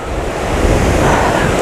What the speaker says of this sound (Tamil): பாலத்தோட கீழால் தண்ணி போகுது.